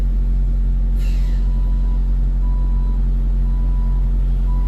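A truck backing up gives steady reversing beeps, evenly spaced and moderately loud over a heavy low engine rumble, with a brief hiss like an air brake near the start and no talking.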